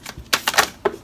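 Oracle cards spilling onto a floor, a quick cluster of light papery slaps and clicks within about a second, close and fairly soft, with no talking.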